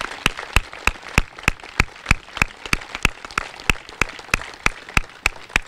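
At a 2023 college commencement ceremony, sharp, evenly spaced claps ring out close by in a steady beat, over a softer bed of scattered audience applause.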